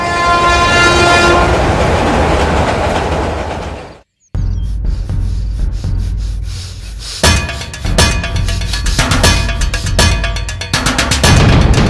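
Train running loudly with a prolonged horn blast, then a brief cut followed by rhythmic clattering of wheels over rails, close and continuous.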